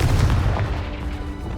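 In the Hogwarts Legacy video game, a Confringo spell detonates with a deep, rumbling boom that fills the short moment and fades slightly toward the end.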